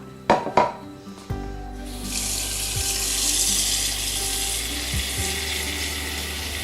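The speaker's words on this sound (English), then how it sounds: "And now we're gonna add some water." Water pours steadily into a pot of rinsed black beans, a continuous hissing rush following a few knocks and clatters at the start, close and moderately loud.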